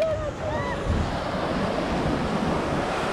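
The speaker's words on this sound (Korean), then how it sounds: "우와 파도네" Ocean surf rolls and washes onto An Bang beach in Hoi An, a loud continuous roar buffeted by wind noise on the microphone, with a faint whistling tone early on.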